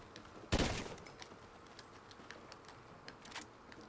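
A loud gunshot burst from Call of Duty: Ghosts cracks out near the start, followed by a quieter trail of scattered distant shots and clicks.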